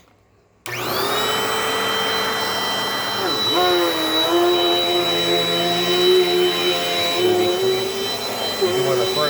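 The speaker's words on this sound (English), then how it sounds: "I'm vacuuming for you guys to get this cleaned up." A Dirt Devil Dynamite Plus vacuum cleaner switches on abruptly and runs with a loud, steady whining roar whose pitch dips and shifts as it moves across the floor, close to the microphone.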